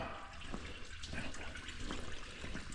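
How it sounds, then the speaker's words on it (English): Coolant draining from an engine hose on a Farmall 756 tractor, a steady liquid trickle and splash that runs continuously and fairly close, with no talking. "coolant's not draining real fast"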